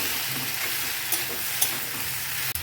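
Jute leaves fry and get stirred in a pan that already holds fried shrimp, a steady broadband sizzle running throughout with a few brief scrape clicks and a sharp knock near the end.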